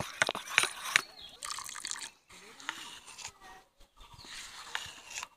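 Water trickles and drips in short bursts into a bowl of thickened semolina batter, with faint clinks of a utensil against the bowl in a home kitchen, close and fairly quiet.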